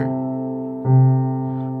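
Piano playing a beginner arrangement of a song: a low left-hand note is held while a new right-hand note enters near the middle. The tones ring close and steady with no voice.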